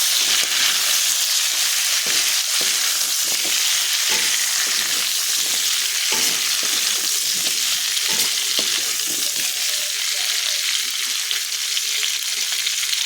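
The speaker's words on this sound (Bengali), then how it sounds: "পেঁয়াজ কুচি আর ক্যাপসিকাম কেটে রেখে দিয়েছি। এটাকে একটু নাড়াচাড়া করে নেব ভালো করে।" Chopped onion and capsicum fried and stirred in a pan, a loud constant sizzle with repeated scraping and clacking of a spatula against the metal, close and continuous, no voices.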